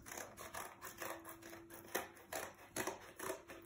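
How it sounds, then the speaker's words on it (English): Scissors snipping through a milk carton to cut it into squares: a quick, irregular run of crisp close-up cuts and crunches, some louder than others, with no talking. "So I'm going to keep cutting these"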